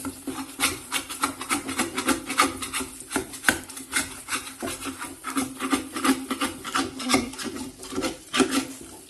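Steady scraping and rubbing of a spoon against the bottom of a pan as malai is stirred down while making desi ghee, a close, continuous rhythmic rasping with frequent strokes.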